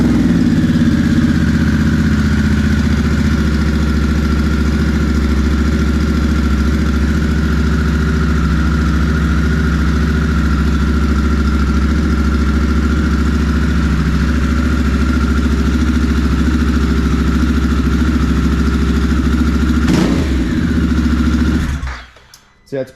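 A 2022 Harley-Davidson Sportster S with an aftermarket TBR exhaust idles loudly and steadily with a deep, throaty drone, close up, then cuts off abruptly at the end.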